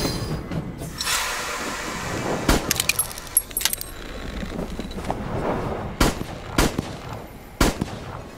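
Gunfire in the Voidtrain video game: several sharp, loud shots burst out over a steady mechanical rumble of moving train machinery, with clusters of quick reports spaced across the stretch.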